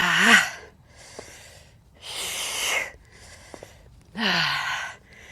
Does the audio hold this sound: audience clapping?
no